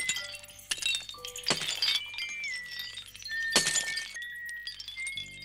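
Crystals shattered by a whistle in an animated film, heard as sharp glassy breaking bursts and clinking shards at about 1 and 3.6 seconds, with thin whistling tones running between them.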